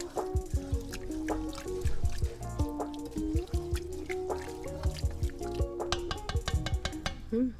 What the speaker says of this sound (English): And then I'm gonna give that a mix.